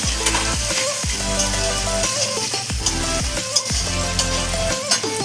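Fried bori lentil dumplings go into a sizzling pan of shukto curry made with raw papaya, giving a loud close sizzle with clatters as they are stirred in, while music plays over it.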